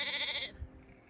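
A single nearby sheep gives one clear bleat lasting about half a second on an open hillside walk, followed by quiet.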